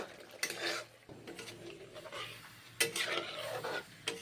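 Spoon scraping and stirring moong and masoor dal in a cooking pot, with irregular scrapes and clinks and louder bursts of stirring near the end, close by.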